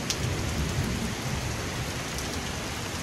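Heavy rain pours steadily throughout a severe thunderstorm that produced a tornado, a dense, loud hiss of rainfall with a low rumble underneath and no voices.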